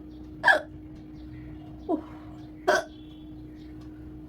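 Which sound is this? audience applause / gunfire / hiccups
hiccups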